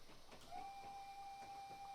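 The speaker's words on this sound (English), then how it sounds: "You saw the whistle board, I have to whistle." A train whistle gives one long, steady, sustained blast on a branch line as the train brakes toward a platform, heard over a low rumble of the train rolling along.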